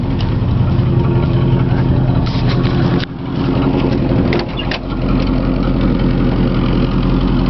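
A 1963 Thunderbird engine runs steadily at a loud, close idle for the whole stretch, with two short dips in level around the middle, a brief touch of gas nudging the rumble up and down.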